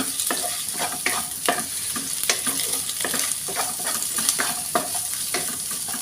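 Fish fried rice stir-frying in a pan over high heat makes a constant crackling sizzle, with rhythmic scraping and tossing strokes from a spatula repeating every half second or so, close up and with no talk.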